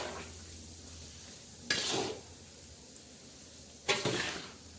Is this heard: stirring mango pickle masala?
yes